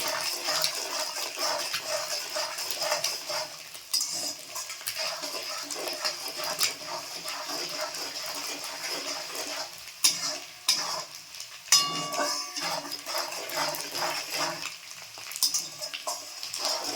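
Coriander and chilli powder being stirred in a hot pan for chicken chow mein, a light crackling sizzle with intermittent spoon scrapes and a few louder clanks.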